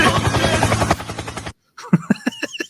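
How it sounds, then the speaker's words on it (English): A helicopter's rotor thumps in a fast, steady pulse for about a second and a half, then cuts out, and a voice speaks after it. "Helicopter!"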